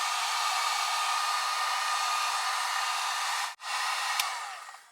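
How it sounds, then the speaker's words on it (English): A heat gun blows hot air over the plastic face of an old Ford truck's instrument cluster, a loud steady whooshing hiss that cuts out briefly once before resuming and fading. "we need to get a heat gun and heat up the front of the face here so we can loosen up the glue"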